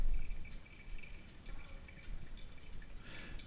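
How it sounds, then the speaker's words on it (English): Water poured from a Hario gooseneck kettle onto coffee grounds in a V60 dripper, a faint soft trickle and patter with small drips, quiet and close, with no voices. "Then you can pour the rest in a circular motion."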